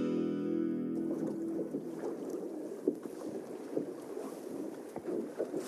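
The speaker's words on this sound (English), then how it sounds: "Good rowing, Corey." Rowing a small fishing boat on a river, with low wind rumble and steady water wash against the hull, irregular oar splashes and knocks recurring every second or so, close and moderately loud, no voices.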